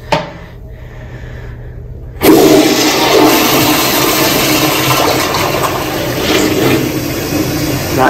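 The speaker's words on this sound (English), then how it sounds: "And for all you toilet fans, well, I'll go ahead and flush it." An American Standard toilet in a Las Vegas resort hotel suite flushes loudly after a quiet start, with a sudden rushing whoosh of water that carries on steadily at close range with no talking.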